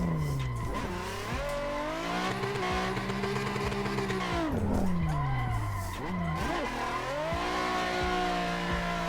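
A kart engine buzzes around a karting track in the video game Assetto Corsa, its pitch rising and falling with throttle through corners, with tyre squeal and skidding laid over the steady close drone.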